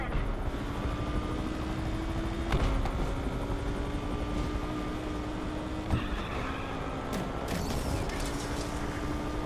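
A police helicopter from the racing game Need for Speed Unbound drones steadily throughout, its rotor hum layered with engine and chase noise and a couple of sharp impacts.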